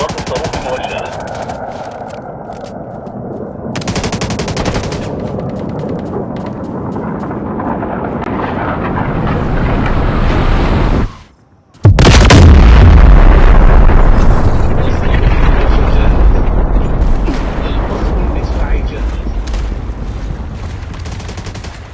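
A guided missile in the Delta Force video game launches amid loud gunfire and rumbling, then after a brief silence a massive close explosion booms with deep rolling aftershock and continued battle noise, with in-game voice callouts.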